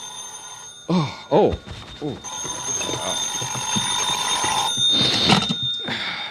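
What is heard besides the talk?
telephone ringing in the morning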